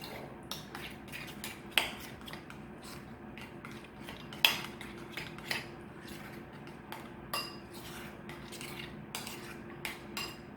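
A utensil scrapes and taps around a bowl while a sauce for a bacon sandwich is stirred, with soft repeated clinks and a few sharper knocks against the sides, fairly quiet and close.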